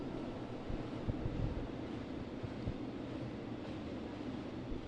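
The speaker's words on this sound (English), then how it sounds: "It's a freight train. They go for a while." A freight train passing, heard as a steady, continuous low rumble with broadband roar that holds at an even loudness throughout, with no talking.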